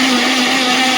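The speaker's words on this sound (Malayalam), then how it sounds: "നമ്മൾ എടുത്തു വെച്ച കട്ട പിടിച്ച പാലും പഞ്ചസാരയും ബൂസ്റ്റിൻ്റെ പൊടിയും നേന്ത്രപ്പഴവും കൂടെ മിക്സിയുടെ ജാറിലേക്ക് ഇട്ട് നല്ലതുപോലെ ഒന്ന് അടിച്ചെടുക്കുക" A mixer grinder jar blends thickened milk, sugar, Boost powder and banana into juice. It gives a loud, steady, high-pitched whir that runs unbroken on its own.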